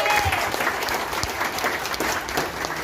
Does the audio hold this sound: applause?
yes